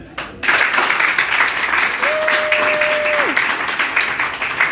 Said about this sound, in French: Ovation pour le couple.